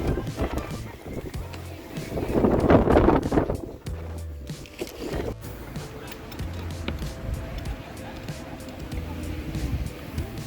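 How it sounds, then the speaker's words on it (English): Wind gusting across a ski resort at Snow Valley on a frigid, blowing-snow day of minus 15 degrees, a steady broadband rush with a stronger gust swelling early, heavy wind buffeting on the microphone throughout. "it's quite windy today"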